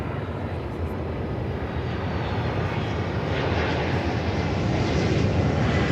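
A fixed-wing cargo aircraft roars in on approach to land on runway 9 at Miami airport, a loud continuous engine rumble and rushing noise that swells slightly as it nears.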